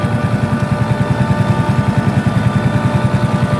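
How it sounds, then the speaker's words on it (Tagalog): A Suzuki Smash Fi motorcycle engine idles close by with a steady, rapid clacking pulse from inside the engine running through its low rumble. "may pumapalakpak sa loob ng makina"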